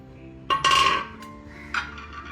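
A heavy cast iron pan, a wok-style kadhai, is handled at a craft fair stall, giving two or three close metallic clanks and knocks with short ringing tails, and no voices.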